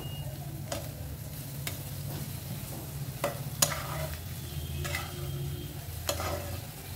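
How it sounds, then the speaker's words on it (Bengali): A spatula stirs vegetarian Maggi noodles with vegetables in a pan on a lowered flame, giving a steady soft sizzle broken by a few sharp scraping clicks against the metal. "সুন্দর করে একটু নেড়ে নেব।"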